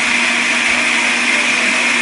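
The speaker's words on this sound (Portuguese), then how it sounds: "Tudo batendo no liquidificador" A blender mixing corn cake batter whirs steadily at high speed, loud and close, with a constant motor drone and churning hiss throughout.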